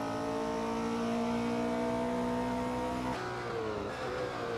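A race car engine in the Assetto Corsa racing game drones loud and steady at high revs, its pitch drifting, then dropping sharply around three seconds in as it downshifts and unsettles before revving on, with no voices.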